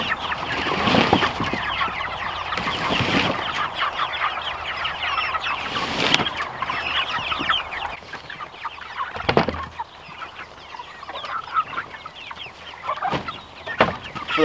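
Meat chickens cluck and chatter inside their mobile pasture tractors, a loud, busy flock of overlapping clucks with occasional sharper calls and bursts of movement, without talking.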